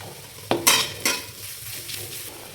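Carrot and cabbage stir-fried in a pan for homemade chowmein: a few sharp scraping stirs with a soft steady sizzle underneath, close and fairly quiet, with no voices.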